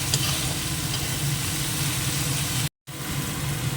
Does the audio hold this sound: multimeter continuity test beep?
no